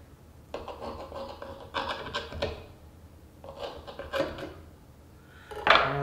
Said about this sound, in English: hopefully this wooden spatula will do the trick. If I can get up under it.